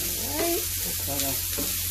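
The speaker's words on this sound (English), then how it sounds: "saute them up a little bit." Fish stew ingredients, including peppers, sizzle and crackle steadily in a hot pan while being sautéed and stirred, close up and continuous, with no talk.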